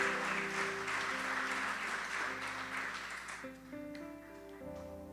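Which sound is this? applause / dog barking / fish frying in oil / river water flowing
applause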